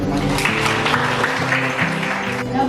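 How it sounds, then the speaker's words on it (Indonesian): A group of students applaud in a classroom, clapping in a busy, moderately loud patter while other voices and background chatter run underneath. "tepuk tangan."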